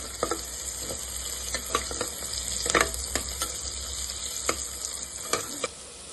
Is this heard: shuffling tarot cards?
no